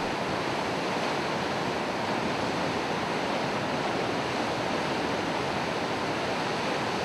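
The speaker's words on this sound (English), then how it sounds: "we can see beautiful waterfall in Upside Hill" Rushing water from a hillside waterfall near Tal village pours in a continuous, even hiss, heard from some distance with no other sounds.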